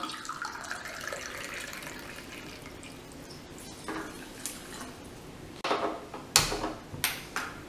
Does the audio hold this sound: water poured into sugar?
yes